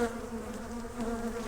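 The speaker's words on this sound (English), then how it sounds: "We got all these bees here." Honeybees buzz steadily around an open beehive headed by a failing drone-laying queen, a dense continuous drone close by with no pauses.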